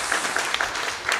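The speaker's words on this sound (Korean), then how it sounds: "박수를 치려면 확실하게 치세요." A church congregation at a New Year's Eve service claps together in a brief, steady patter of many hands.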